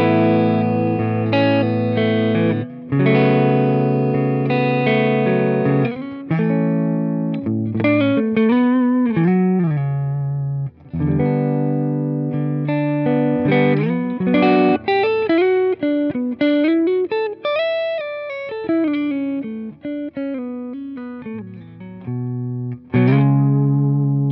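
Clean electric guitar on an Eastman T486 with Seymour Duncan pickups, neck pickup, playing chords and melodic single-note runs, warm and full, played alone with no talking, steady volume throughout.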